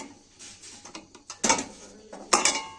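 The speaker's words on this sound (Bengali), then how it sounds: "এবার আমি কড়া থেকে নামিয়ে নেব পিৎজাটা" A homemade pizza is lifted out of a kadai pan, giving a string of sharp metallic clinks and scrapes in irregular bursts, louder toward the end, with no talking.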